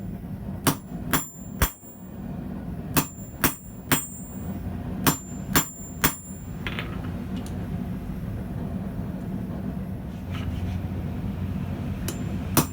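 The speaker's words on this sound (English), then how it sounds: "My hammer blows are centered on the back edge of the swage depression." A hammer strikes steel held in a swage depression while a ball-end finial is freehand forged. About ten sharp, ringing metallic blows come close by in small groups, then a quieter stretch of faint workshop noise with one last strike.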